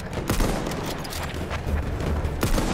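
Gunfire from a first-person shooter video game rattles in steady bursts and single cracks, loud and close, with a sharp shot near the start and another near the end.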